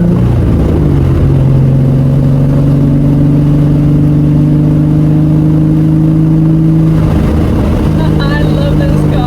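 Engine of a Nissan sports car, a 350Z or 240SX with newly installed upgrades, revving and pulling on a drive, a loud steady drone rising in pitch before easing off near the end, with talk over it.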